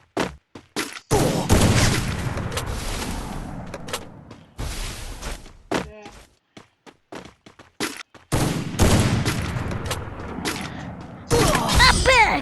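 Sniper gunfire in the Free Fire video game, sharp loud shots and booms mixed with other game sounds, arriving in several clusters separated by short quiet gaps, with a voice talking at times.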